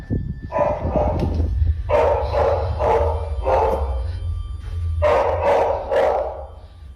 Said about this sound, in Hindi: कुत्ता भौंक रहा है अभी भी